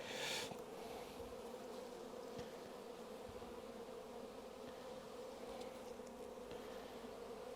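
Dense, steady buzzing of honeybees swarming around an opened hive in an orchard apiary, close and continuous with no voices.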